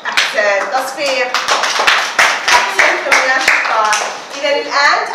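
Classroom clapping during a science lesson, sharp hand claps in quick bursts with children's voices talking over and between them, fairly loud and close.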